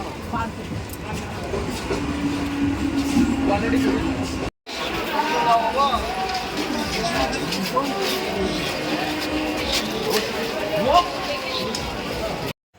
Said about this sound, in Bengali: ওয়াও, বেগুনি রঙের ট্রেন।